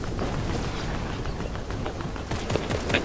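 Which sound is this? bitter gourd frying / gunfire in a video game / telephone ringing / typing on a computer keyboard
gunfire in a video game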